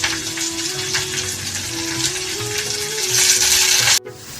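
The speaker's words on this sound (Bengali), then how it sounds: "দিয়ে এটি একটু লাল করে আমি ভেজে নেব" Chopped onions fry in a pan for a tomato curry, giving a steady close sizzle with light stirring, quite loud and continuous until it cuts off abruptly near the end.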